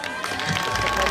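An audience at a Loi Krathong beauty pageant at Wat Thai of Los Angeles claps for the contestants, a dense, steady wash of applause and crowd noise that holds throughout.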